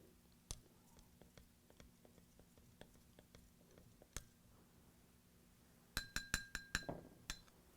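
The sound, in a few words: stirring bleach into Coke in a glass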